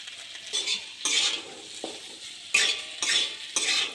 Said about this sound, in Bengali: এখন আলুগুলো ভালো করে ভেজে তারপরে মশলাটা দিয়ে দেবো।